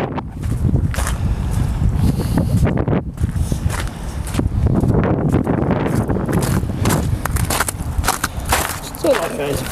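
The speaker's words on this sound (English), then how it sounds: "Still windy, still cold." Gusty outdoor wind buffeting the microphone on York Street in Fredericton near the new train station, a steady low roar with bursts and rustle throughout, loud and continuous.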